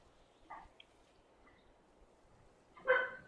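Dogs bark in the video game The Banner Saga: two short, fairly faint barks about two seconds apart, over a quiet background.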